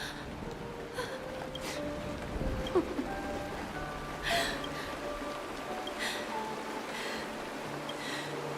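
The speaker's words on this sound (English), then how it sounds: "It is rain." Rain falling in a video game scene, a steady even hiss of drops that continues through the whole stretch, with faint tonal sounds drifting underneath and no talking.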